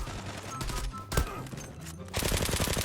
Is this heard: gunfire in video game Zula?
yes